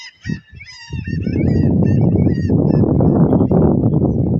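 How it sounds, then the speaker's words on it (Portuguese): Noisy honking bird calls, identified as gulls, ring out at a lagoon after heavy rain, starting as a few brief cries and then swelling into a loud, dense, continuous flock chorus close by. "É as gaivotas, galera."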